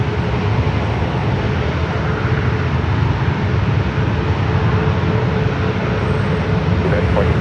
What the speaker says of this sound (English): Into Denver on this 27-year-old 757 at 300.